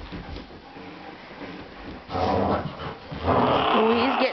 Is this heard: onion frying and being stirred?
no